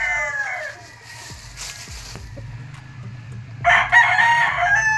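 Pure white Kelso gamefowl rooster crowing loudly and close by, with other roosters crowing in the background and scattered clucks over faint farmyard ambience.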